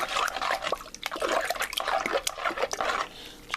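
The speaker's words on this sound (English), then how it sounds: "I'm going to stir that up" A spoon stirs chocolate into liquid in a pot, giving close, uneven sloshing and liquid churning in quick irregular strokes, with light scraping throughout.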